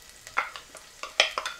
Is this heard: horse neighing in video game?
no